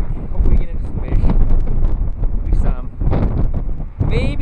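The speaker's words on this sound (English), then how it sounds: "I'm sorry about the wind." Strong wind buffets the microphone outdoors in Wyoming while fly fishing, loud, steady low rumbling gusts, with some voices mixed faintly underneath.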